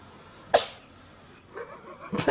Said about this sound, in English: My cat's gonna sneeze.